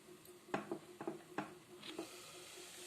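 Mutton pieces frying over a low flame in a pan, with a soft steady sizzle under several close, distinct stirring and scraping strokes.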